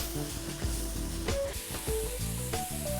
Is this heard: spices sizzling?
yes